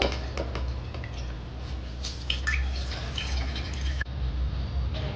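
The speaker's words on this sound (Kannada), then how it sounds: "ನಾನಿವಾಗ ಅದನ್ನು ಅಕ್ಕಿಯನ್ನು ಫಿಲ್ಟರ್ ಮಾಡ್ಕೊತೀನಿ. ನೀಟಾಗಿ ನೀರು ಬಸಿಬೇಕು." Washed rice sits in a filter as water drains away, making soft, irregular drips and trickles over a low steady hum, with a few light clicks and taps close by.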